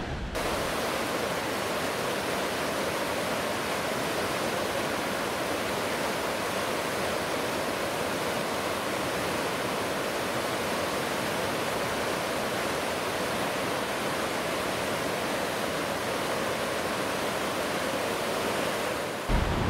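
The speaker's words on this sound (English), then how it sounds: "It sounds like fast flowing water here." A waterfall of fast-flowing water on the West Highland Way in Scotland roars as a steady, loud, broadband rush that stays constant throughout, with no voices over it.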